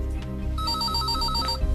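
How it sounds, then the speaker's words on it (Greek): A telephone bell rings indoors in steady repeated trills, clear and close with no talk over it. "Δεν μπορείς να σηκώσεις το τηλέφωνο?"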